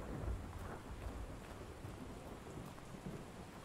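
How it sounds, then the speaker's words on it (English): Rain and thunder in Road to Vostok: steady hissing rainfall with low rumbling thunder underneath, quiet and continuous, with no voices. "Lightnings and thunder. It just sounds great."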